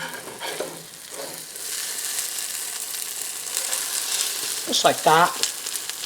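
Zucchini grilled cheese with homestead bacon sizzles in a pan, a steady soft frying hiss with brief scraping as it is flipped, and a voice speaks briefly near the end.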